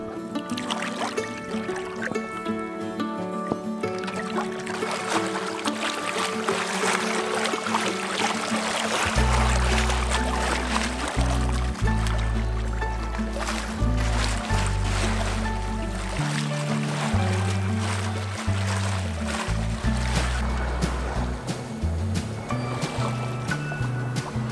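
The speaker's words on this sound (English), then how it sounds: "we were able to listen to the satisfying sound of the water rushing past our boat" Water rushes and splashes steadily against the hull of a sailing boat off the Italian Riviera as the wind picks up, forming a continuous wash under strong low, droning tones.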